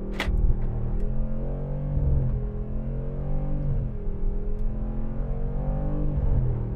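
A Mercedes G-Class engine revs under hard acceleration in low-range gear, a loud droning rumble whose pitch climbs, drops at each shift and climbs again, heard from inside the cabin.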